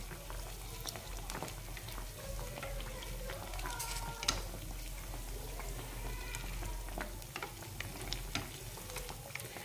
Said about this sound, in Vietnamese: Mình chiên bánh thì mình thường xuyên mình lật lên cho bánh nó chín đều.